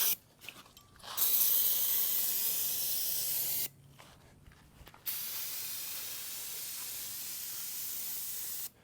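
An aerosol can of degreaser hisses in long sustained bursts while cleaning a torn-down John Deere 2653A mower, the spray cutting out briefly midway before resuming, then sputtering as the can runs empty.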